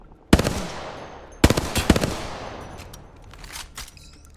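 Automatic weapon fire in Apex Legends comes in two sharp, loud bursts of rapid shots, followed by scattered fainter pops and echoing tails as the shooting trails off.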